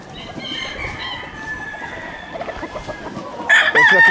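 Fighting cocks on a breeding farm at 2,700 metres altitude, crowing and clucking: layered calls from several birds at middle distance, with one loud, close crow bursting out at the end.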